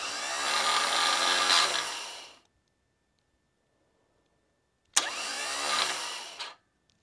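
Electric motor with no load starting up during a hard start relay test, a loud whirring hum that runs about two seconds, cuts to silence, then starts again abruptly and runs briefly before stopping.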